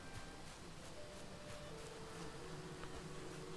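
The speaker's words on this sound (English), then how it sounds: "Oh, there's bees. Bees are getting me." Bees in Valheim give a faint, steady insect buzz that drones continuously and sits low under the game's ambience.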